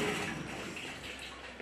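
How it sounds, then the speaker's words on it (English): Water flows through a 5900-BT bypass valve into a house's plumbing, a faint, steady hiss with no break and no talk. "you have water flow going into the house"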